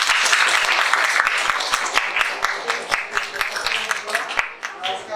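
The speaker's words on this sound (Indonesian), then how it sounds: "Kita beri tepuk tangan untuk kelompok 2." A classroom of students claps for a student group, a brisk spatter of many hands with sharp individual claps standing out, fairly close and thinning toward the end.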